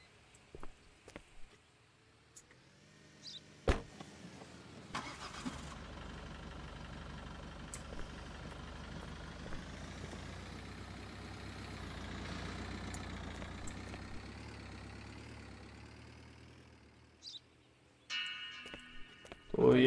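A car engine in a border checkpoint video game, rumbling in after a few faint knocks, then idling at a low, steady throb for a long stretch before a burst of clicks and noise at the end.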